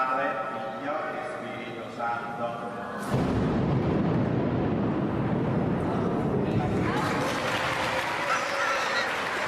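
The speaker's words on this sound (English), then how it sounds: "At the conclusion of the final prayer, lightning strikes nearby." A sharp, loud crack of nearby lightning and thunder bursts in abruptly after quieter tonal sound, followed by a broad rumbling roar and rising congregation applause that continues to the end.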